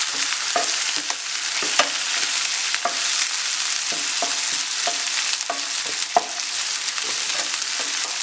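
Tomatoes and onions fry in a pan for a pork curry, giving off a steady sizzle punctuated by regular scraping taps of a spoon stirring them, close up and without talk.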